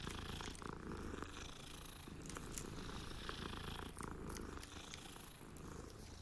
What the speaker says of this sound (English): Pet the kitty.